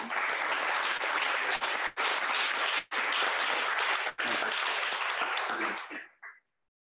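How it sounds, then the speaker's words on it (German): Loud, sustained applause from a large crowd at a startup pitch event in Düsseldorf, broken by a few sharp cuts before fading out at the end. "Großer Applaus für DigiBlue."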